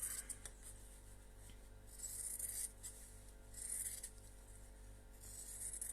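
Scissors cut through folded fabric for a mouse-shaped pin cushion, making faint, intermittent rasping snips in a few short bursts over a low, steady background hum.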